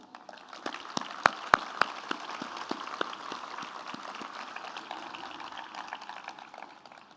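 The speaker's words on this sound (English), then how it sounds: "please help me give our students a round of applause" Scattered applause for students at an awards ceremony, light sparse clapping with a few sharp louder claps, moderately distant and steady.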